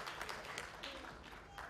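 An audience claps in steady, dense applause for children who danced at a birthday celebration, a continuous crowd wash heard from within the hall at moderate level.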